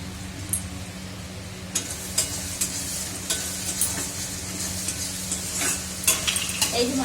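Makhana (fox nuts) sizzling and frying in a pan, with small potatoes cooked alongside; a steady, close sizzle with intermittent scraping and light clinks of a spoon stirring, no talking.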